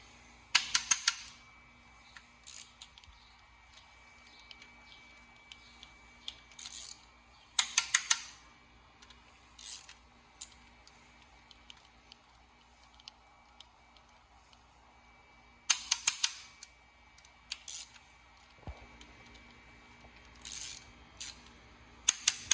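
A ratchet wrench torquing bolts during a timing chain service on an Audi B6 S4 engine: repeated quick bursts of close metallic clicking, separated by pauses with faint handling noises.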